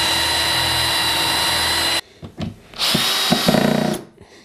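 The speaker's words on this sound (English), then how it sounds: "the bottom of the nest box is just a bit of exterior ply, which I'm just going to screw on the bottom" Bosch power drill driving screws into exterior plywood on the bottom of a chicken coop nest box, a loud close whir for two seconds followed by shorter spurts of drilling and handling clatter.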